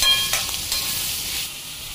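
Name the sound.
onion frying in a pan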